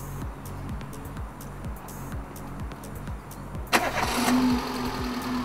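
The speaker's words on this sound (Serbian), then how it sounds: "Sad ću ti upalim motor da čuješ." A car engine is cranked with a rapid rhythmic starter whir, then catches and settles into a steady idle, heard up close and alone.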